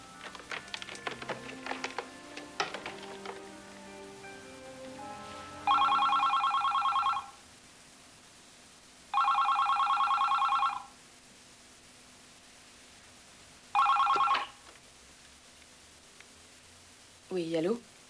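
A telephone rings in a house three times: two long trilling rings and a shorter third, clear and fairly close, after a stretch of conversation, with a voice answering at the very end.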